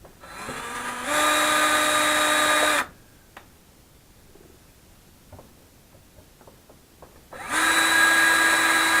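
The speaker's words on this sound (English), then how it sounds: "proceed to walk your drill all over the place" A power drill runs in two loud bursts separated by a quiet stretch with faint clicks and handling noises.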